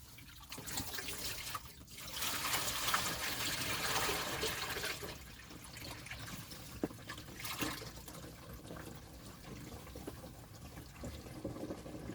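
Water from a van's interior shower pours and splashes into a sink, a steady broadband gush lasting most of the stretch with a brief dip early on, close by and with no one talking.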